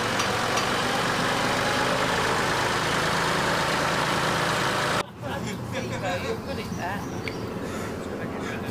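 A heavy truck transporter engine idles loudly with a constant low rumble, then cuts to quieter background noise with faint scattered sounds.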